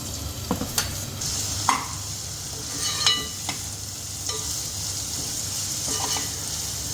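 Two medium chopped onions fry in ghee and oil in a pan for biryani, a steady close sizzle broken by a few sharp stirring scrapes and clinks.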